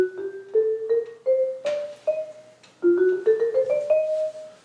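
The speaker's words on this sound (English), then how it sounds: "the dominant on the 5 sounds like this" A tri-chromatic keyboard plays a clear, close sequence of sustained tonal notes in two ascending runs, each note struck distinctly with a short decay and no talk.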